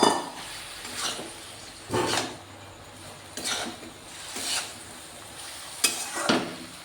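Fried soybean chunks and fried potato are tipped into a pan of curry, giving several separate bursts of clattering, scraping and stirring against the pan with a faint sizzle between them. No one talks.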